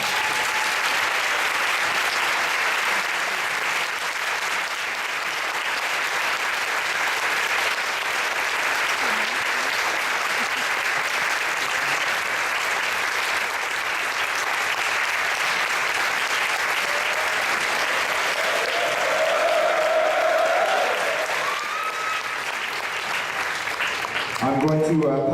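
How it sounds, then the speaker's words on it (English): A seated audience at a teacher's retirement speech gives a long, even round of applause lasting about twenty-five seconds, dense and sustained before a voice briefly cuts in at the very end. "I think he deserves a nice big round of applause."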